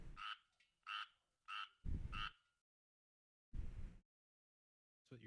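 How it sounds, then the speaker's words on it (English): Four short bursts of frog croaking come close together, then a lower rumbling croak, a long pause, another low croak and the start of a further call, all loud and near with no talk. "That's what your frogs sound like."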